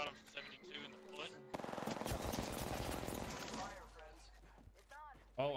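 Automatic and rapid gunfire in the battle royale game Apex Legends, heavy sustained bursts in the middle with sharp single shots, while players talk over the action before and after.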